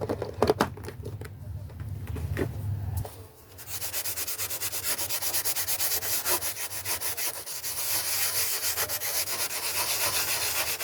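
Close, continuous rubbing and scrubbing as a surface is wiped down, with brief knocks at the start, then a steady abrasive swish.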